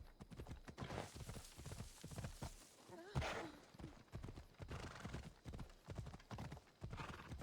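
A horse in Assassin's Creed Odyssey clip-clops in a quick, steady hoofbeat rhythm close by, with a brief whinny around the middle; fairly quiet overall.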